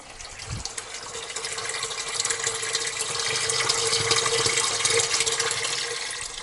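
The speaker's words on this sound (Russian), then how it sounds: "Вот так набирается вода." Tap water runs steadily into a container at an outdoor well setup, a broadband rushing gush that builds slightly in strength over several seconds with a brief low thump near the start.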